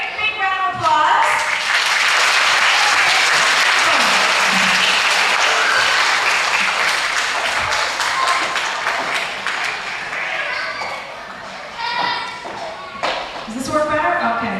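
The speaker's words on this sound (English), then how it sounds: "So everybody give her a great big round of applause." A school audience gives a visiting author a big round of applause, loud dense clapping that swells then fades, followed by scattered voices and chatter near the end.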